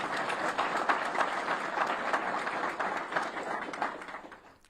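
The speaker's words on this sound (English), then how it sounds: "we can go ahead and clap for him" A crowd applauds steadily, dense clapping from many hands that holds for several seconds before fading toward the end.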